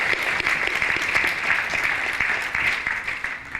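An audience in the European Parliament applauds to welcome the Armenian Prime Minister. The clapping is steady, dense and fairly loud throughout, with no voices over it.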